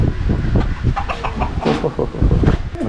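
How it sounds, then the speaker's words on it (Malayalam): Several chickens, including black Karinkozhi hens, cluck and squawk close by in a busy, overlapping jumble, with scratchy farmyard noise throughout, at Nelliyampathi in Palakkad, Kerala. "കോഴികളുണ്ട്."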